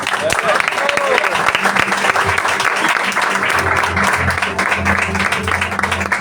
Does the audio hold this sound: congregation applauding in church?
yes